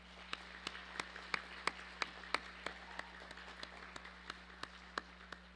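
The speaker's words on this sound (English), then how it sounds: "Will you please give them a round of applause?" Faint, sparse clapping at a high school assembly, with evenly spaced individual claps carrying over a low steady hum, distant and quiet.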